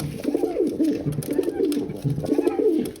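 Domestic pigeons kept at home coo repeatedly in soft, rolling, throaty phrases, close by and fairly loud, with a couple of birds overlapping.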